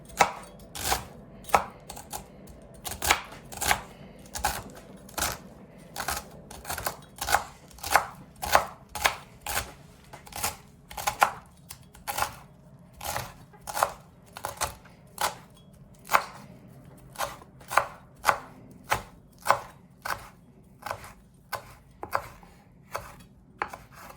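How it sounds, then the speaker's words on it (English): Knife chopping celery leaves on a cutting board for a stracotto pot roast, a steady series of sharp, close taps in an even rhythm with a few brief pauses, heard alone without talk. "So I'm just going to chop them up and get them ready for our pot roast today."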